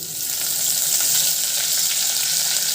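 Loud, steady sizzle of fennel seeds and curry leaves dropped into hot oil for a mutton curry, a continuous bright crackling hiss with no voices.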